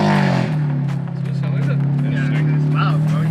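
A BMW F80 M3 with its S55 engine drives down the block with a loud, steady low drone that holds throughout, and voices talk over it.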